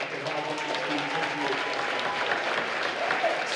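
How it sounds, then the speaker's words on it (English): A jazz concert audience applauds a student band with a dense, steady wash of clapping throughout, close and sustained. "how about one more round of applause for all these talented, hard-working students"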